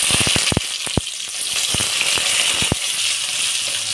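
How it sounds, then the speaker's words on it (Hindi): Onions frying in hot oil with dried red chillies and popped mustard seeds, a steady bright sizzle punctuated by a run of sharp crackles and pops, close and alone. "पियाज को भल भाव भाजा"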